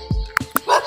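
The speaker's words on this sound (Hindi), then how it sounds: "इधर आया तो भाई कुत्ता यहाँ पे बहुत ही ज्यादा भौंक रहा है भाई।" A dog in a rural Indian village setting gives two quick, sharp barks close by, short yelping bursts among faint outdoor background noise.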